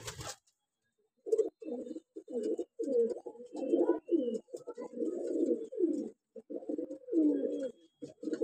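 Pigeons coo close by in low, throaty, repeated rolling calls, one after another with short pauses, steady and prominent.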